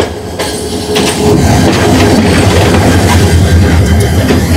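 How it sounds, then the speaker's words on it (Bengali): A train engine passes along a railway line at a hazardous trackside spot, a loud, close, continuous rumble and rattle of wheels on rails that swells and holds steady throughout. "এই ট্রেনটা বা ইঞ্জিনটা চলে গেছে"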